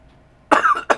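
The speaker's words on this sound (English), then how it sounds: "I'm getting ready to cough" A person coughs twice in quick succession, close and loud, after a moment of near silence.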